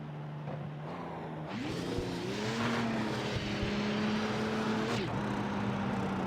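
Audi R18 LMP1 race car in iRacing, a growly engine revving up through gears with pitch rising, dipping and climbing again, loud and continuous.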